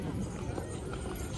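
Horse hooves clip-clopping at the Sarangkheda horse fair in Maharashtra, a steady run of close hoof beats over a busy, noisy fairground background with voices talking nearby.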